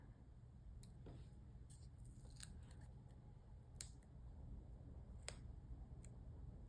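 Scissors make a series of quiet, crisp snips at irregular intervals while trimming, close and faint over a low background hum.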